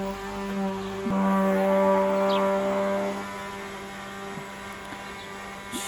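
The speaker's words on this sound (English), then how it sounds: "that's my next door neighbour with his electric sander." An electric sander runs next door, heard as a steady, droning motor hum with tonal harmonics that swells slightly midway and then settles, fairly faint and distant, with no talking.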